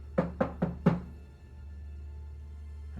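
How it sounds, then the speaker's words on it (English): Four sharp knocks on a door, evenly spaced in quick succession, close and distinct, then a quiet room tone. "He gives a brief rap on the door."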